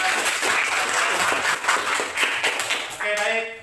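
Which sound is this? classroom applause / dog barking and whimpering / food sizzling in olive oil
classroom applause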